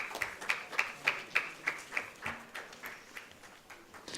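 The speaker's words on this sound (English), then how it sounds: "A big round of applause, please." A round of applause welcoming a doctor speaker at a medical event: faint, sparse clapping from a few hands in a quick, regular rhythm that gradually thins and fades.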